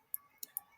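Three sharp, quiet clicks from a computer mouse, spaced unevenly across under a second, with nothing else around them.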